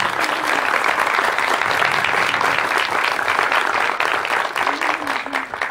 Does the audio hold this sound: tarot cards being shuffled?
no